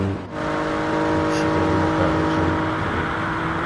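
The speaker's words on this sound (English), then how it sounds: "nice noise that the Toyota makes" A Toyota Group 3 race car at Mount Panorama holds a loud, steady engine note close by, revving hard with a brief dip before climbing again, almost alone with only faint talk.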